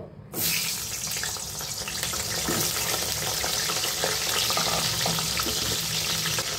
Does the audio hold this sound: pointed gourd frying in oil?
yes